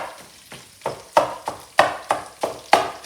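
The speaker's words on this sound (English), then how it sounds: "Just chopping it up into smaller pieces with the wooden spoon." A wooden spoon breaks up beef mince browning in a hot pan, each scrape and knock landing in a steady rhythm of about two per second over a constant sizzle.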